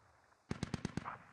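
Mortar fire in the tactical shooter game Squad: five sharp, evenly spaced booming reports in quick succession after a short quiet lead-in, close and loud, no talking.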